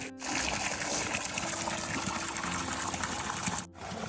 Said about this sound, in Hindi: यहाँ पे हमको पानी का धारा मिल गया।